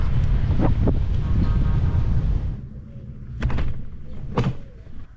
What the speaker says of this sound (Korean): 바람이 불고 있어서.